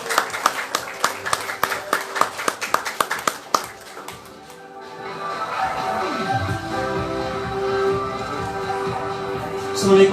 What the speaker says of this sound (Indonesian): Mari makin berdiri, tepuk tangan untuk Bapak Hadiansyah.